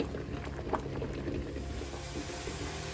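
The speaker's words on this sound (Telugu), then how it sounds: "ఈ లోపు ఇంకా ఎగ్స్ బాయిల్ అవుతూనే ఉన్నాయి" Eggs boiling in a pot of water while egg curry cooks, a steady close bubbling and gurgling that stays even throughout, with one brief louder pop.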